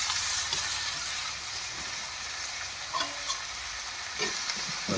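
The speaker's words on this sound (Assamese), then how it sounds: "পানীলাও চব্জি দি পুৰা হিলাই আছোঁ।" Panilaw greens are stirred in a hot pan with fried onion and chilli, a continuous loud sizzle broken by scattered scrapes and taps of the spoon, close and without voices.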